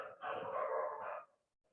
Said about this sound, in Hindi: देख रहे होगा इस कुत्ता लोग कैसे भौंक रहा